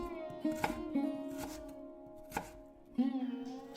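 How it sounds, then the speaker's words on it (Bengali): Rooftop-garden cauliflower being chopped on a board, several sharp knife strikes at an uneven pace, close and clear, with a faint steady hum underneath. "সুন্দর করে কাটাকাটি শেষ করে নিলাম।"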